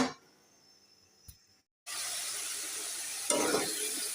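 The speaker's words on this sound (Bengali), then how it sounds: "তো এই যে এখানে ছোলা বুট রান্না করে নিচ্ছি" Chickpeas cook in a pan after a short quiet stretch and a brief cut, then a steady close sizzle sets in and swells briefly near the end.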